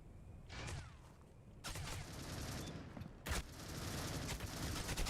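Gunfire in a professional league video game match: several faint bursts of rapid shots and sharp cracks, spread across the stretch over a low steady game background.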